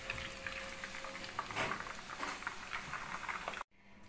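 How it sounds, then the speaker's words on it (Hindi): Rice boiling in a pot: a steady soft bubbling and patter of simmering water, close and fairly quiet, cutting off abruptly near the end. "चावलों को मैंने बॉयल होने के लिए रखा"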